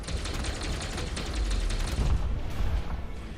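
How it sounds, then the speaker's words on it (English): Explosion in Elite Dangerous Odyssey near an SRV, heard as a steady, dense crackling rumble with a heavier low boom swelling toward the middle, fairly loud and without talk. "That was a beautiful explosion."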